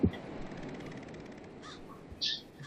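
Crows caw in the Bird Simulator video game, a few short harsh calls spaced apart over quiet background noise, fairly faint with no talk.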